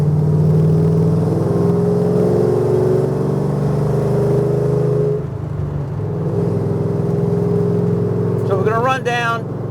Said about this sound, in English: Nothing like a V8.